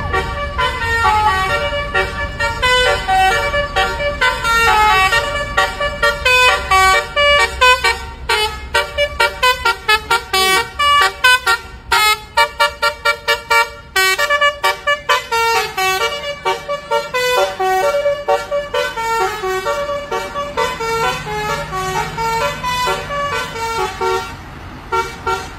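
Mansion bus honking its horn as it passes, a long run of rhythmic musical horn notes repeating loudly in a melodic pattern.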